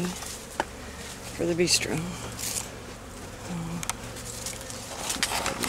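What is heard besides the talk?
honey bees buzzing around hives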